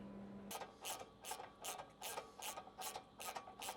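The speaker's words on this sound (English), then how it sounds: "you can tighten all of the frame bolts down" A ratchet tightens frame bolts while a front bumper is fitted to a Lexus GX470, nine quick even clicking bursts in a steady rhythm, close and crisp, with no voices.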